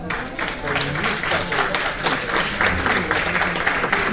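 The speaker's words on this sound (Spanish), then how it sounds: "Un aplauso por el director, por favor." Enthusiastic applause from an audience at a talk for a technical-college director, close and lively with distinct individual claps in an uneven rhythm, continuing for several seconds with a few voices mixed in.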